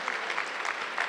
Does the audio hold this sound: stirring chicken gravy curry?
no